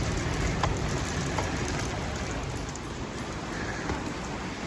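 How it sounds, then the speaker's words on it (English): Heavy rain drives against and through a window of a French château, a steady dense hiss of drops pattering on the glass and sill, loud and continuous with no pauses. "Rain was blowing in through the window sideways, so it comes coming off the edge this time."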